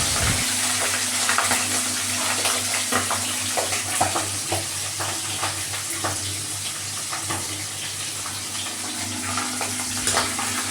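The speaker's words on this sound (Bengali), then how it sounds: "মাছের মাথা তো জানেনই ভীষণই ফোটে" Fish heads frying in hot oil in a home kitchen for muri ghonto, a steady close sizzle with scattered pops and crackles running throughout, no talking.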